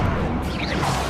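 Confringo explosion spell cast in the video game Hogwarts Legacy: a dense, loud burst of blasting noise with a brief swishing sweep, filling the whole short moment.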